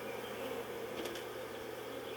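Honeybees buzz steadily and close around an open hive during an inspection for the queen, a continuous droning hum with no talk.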